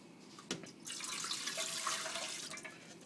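Milk is poured into a bread machine pan, a soft steady liquid trickle with a small splash at the start, quiet and close, with no talking over it.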